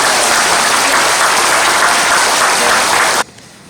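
A high school audience applauds loudly and continuously after a philosopher's commemorative lecture, and the clapping cuts off abruptly near the end, leaving near silence.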